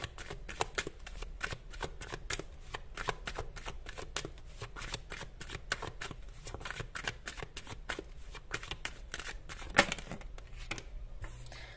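Tarot cards being shuffled by hand, a long run of rapid, crisp riffling flicks in a steady rhythm with a sharper snap near the end, close and clear with no talking.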